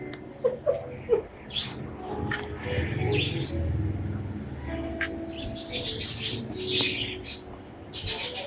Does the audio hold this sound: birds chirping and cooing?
yes